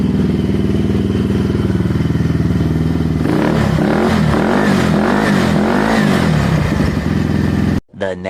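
A Benelli Velvet moped engine runs close and loud through a harsh, rattly exhaust, idling steadily before a series of rhythmic throttle blips rise and fall, then cuts off abruptly.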